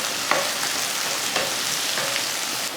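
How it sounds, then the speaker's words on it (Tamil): Onions, green chillies and curry leaves sautéing in hot oil with mustard seeds and fenugreek for tomato rice, giving a steady, even sizzle with a few soft stirring scrapes, close and alone without voices. "ஒரு 2 பெரிய வெங்காயம், ஒரு 2 பச்சை மிளகாய், கொஞ்சம் கருவேப்பிலை எடுத்திருக்கேன். அதை சேர்த்துடலாம். சேர்த்துட்டு வதக்கணும்."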